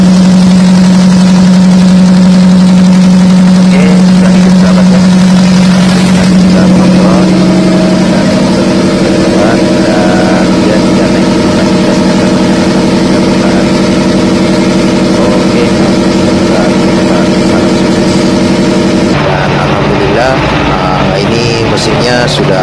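A ship's engine, just back in service after breaking down while underway, runs loud and close with a steady mid-low drone and tonal hum, its pitch shifting partway through and the texture changing near the end.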